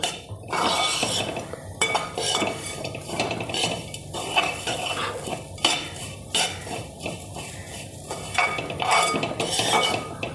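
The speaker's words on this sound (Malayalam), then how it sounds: "ഇനി നന്നായിട്ട് ഇളക്കാം" A utensil scrapes and clinks steadily against a hot pan, roasting spice powders for a beef curry, in a repeated stirring rhythm, close and continuous.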